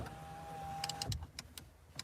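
A steady electric motor whine from a Renault's power window runs for about a second, then stops with a clunk as the right window fails to go up, followed by a few sharp clicks and knocks.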